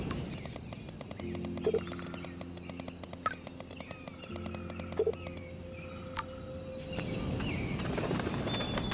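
Game ambience from Life is Strange: dense, busy bird chirps and calls fill the scene alongside a low steady hum, with brief clicks and a soft rustle near the end.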